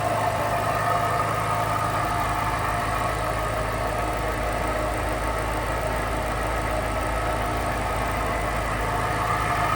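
The supercharged 4.6-liter V8 of a 2005 Ford Mustang Saleen S281 idles steadily up close, a constant low, even rumble with a faint whine, heard alone without talk.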